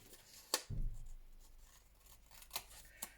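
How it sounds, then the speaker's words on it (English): Scissors fussy-cutting paper by hand: a few quiet, close snips and crisp paper rustles, with a short low thud early on, spaced irregularly in an otherwise quiet room. "I'm going to just fussy cut that out."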